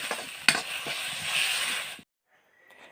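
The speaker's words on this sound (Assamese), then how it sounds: "এতিয়া মই মানিমুনিৰ পেষ্টটো দি দিলোঁ আৰু এইটো ধুনীয়াকৈ মিক্স কৰি" Turmeric and manimuni (Indian pennywort) paste fries and is stirred in a pan, a steady hiss with scraping strokes and one sharp clink, cutting off abruptly after about two seconds to near silence.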